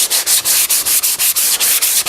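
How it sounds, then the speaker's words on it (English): A Festool Granat sander scuffing a water-based lacquer coat, with loud, close, rhythmic scratchy strokes about five per second, each a bright abrasive hiss with short dips between. "just using the Festool Granat to scuff this up"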